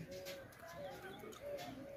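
Rampuri and lal ambarsare pigeons cooing in a breeding loft, soft repeated low coos at moderate distance mixed with faint chirps and a low background bustle.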